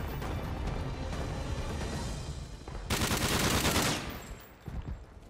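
Rapid automatic gunfire in Modern Warfare 3 Spec Ops survival on the Arkaden map, a dense rattling burst of shots that swells midway then cuts off, followed by scattered impacts.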